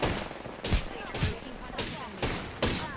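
Gunfire in the Apex Legends video game: a rapid series of loud shot bursts arriving in regular clusters roughly every half second, with game effects and faint voices underneath.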